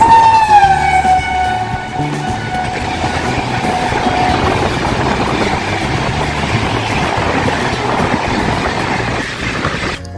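A long-distance passenger train from Jammu Tawi toward Guwahati pulls out, its steady rolling rumble and rhythmic clickety-clack of wagons filling the air loudly and continuously, with a brief high horn-like tone at the start.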